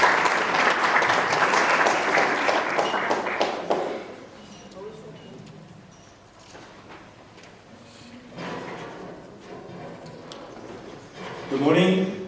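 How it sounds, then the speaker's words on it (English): Audience at a local government conference applauds for about four seconds, a dense, loud wash of clapping that fades into room noise, with scattered shuffles and taps and a brief voice near the end. "Please give him a round of applause."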